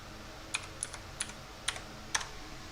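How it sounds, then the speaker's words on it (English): Five sparse keystrokes on a computer keyboard, light and fairly close, spaced unevenly over a quiet room hum while a name is typed in. "I'm gonna type in name."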